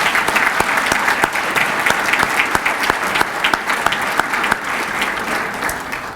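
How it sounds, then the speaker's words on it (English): An audience at the Quincy Mayor's Good Scout Breakfast claps for a young scout, a steady, dense round of applause that runs unbroken from start to finish with no voices over it. "Let's give this future leader another round of applause"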